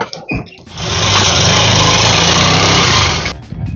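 A motor vehicle engine starts with a few quick knocks, then runs for about two and a half seconds as a loud, steady, high-pitched buzzing whine before cutting off abruptly.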